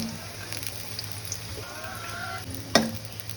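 Gaja pastry pieces frying in oil in a wok make a soft, even hiss, with a light stirring rustle and one sharp clink near the end.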